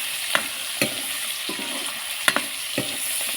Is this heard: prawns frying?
yes